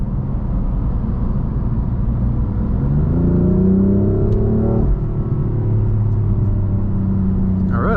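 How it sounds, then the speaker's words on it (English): A 2018 BMW M4 cruises on the highway, its engine a loud, steady rumble heard from inside the cabin that rises in pitch midway as the car accelerates, then settles back to a constant drone. "I'm gonna do a little bit of highway driving, give you guys a feel for what this car feels like on the highway."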